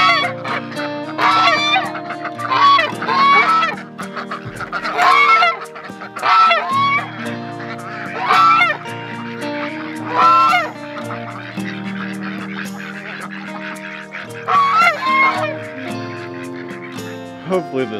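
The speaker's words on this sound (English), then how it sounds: "Let's let these ducks out. Look at them. They're running." Homestead ducks let out of their pen call in repeated loud, nasal honking bursts, several birds quacking in overlapping clusters at close range over a low steady background hum.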